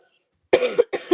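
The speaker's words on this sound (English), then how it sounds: "I'm sorry for coughing like right in your ear." Two quick coughs close up after a brief silence, each a harsh double burst.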